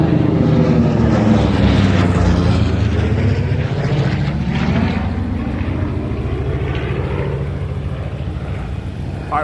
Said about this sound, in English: I think that was a Corsair. That was a Navy plane.